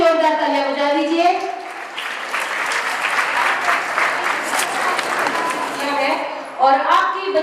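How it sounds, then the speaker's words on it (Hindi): Loud, dense applause for a 10th-grade topper at a girls' school investiture and award ceremony, swelling across the hall for several seconds; a voice speaks at the start and again as the clapping tapers off. "उस बच्ची के लिए भी जोरदार तालियां बजा दीजिए"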